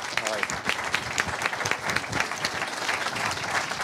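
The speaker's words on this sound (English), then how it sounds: "let's have a big round of applause for everybody" Audience applause at an MIT Enterprise Forum event, a dense wash of many hands clapping steadily throughout with crowd noise mixed in.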